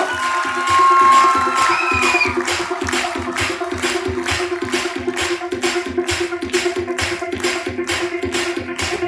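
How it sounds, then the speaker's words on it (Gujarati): Students at a school annual day event clap loudly in steady, sustained applause from a large audience, a dense crowd of hand claps with some cheering mixed in. "જોરદાર તાળીઓ વગાડી દો વિદ્યાર્થી મિત્રો"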